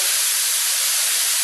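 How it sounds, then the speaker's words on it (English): A paint spray gun for base coat and clear coat, set around 18 to 19 PSI, gives a loud, steady, continuous hiss of air as the trigger is held, with no talk. "Now I'm going to set my gun. I'll pull the trigger."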